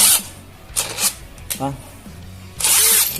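A cheap Kamolee 10mm cordless brushless drill run hard with a bit, coming in short whirring bursts with quiet gaps between them, the last burst longer and louder, while someone talks nearby.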